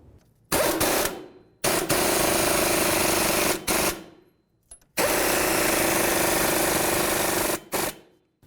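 On a 2000-2005 Buick LeSabre, a power tool runs down the nuts on the front CV axle bolts in loud, sustained whirring bursts of one to three seconds, separated by short pauses.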